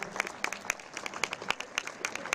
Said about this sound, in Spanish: Fuerte este aplauso a la mejor escaladora del día.